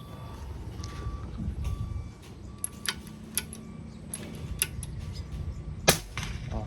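Several sharp air gun shots crack at irregular intervals over a low background rumble, the last one loudest and closest.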